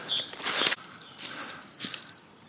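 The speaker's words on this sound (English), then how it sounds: "Beautiful bird song as well." Birds sing in open countryside, several short chirps and whistled phrases repeating through the stretch, moderately close and clear over a soft outdoor hiss, with no talk.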